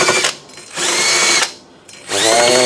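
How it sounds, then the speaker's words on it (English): A power tool cleans rust off the brake rotor of a 2012 Toyota Venza, running in three loud, close bursts of grinding whine separated by short pauses. "I'm going to clean the rotor"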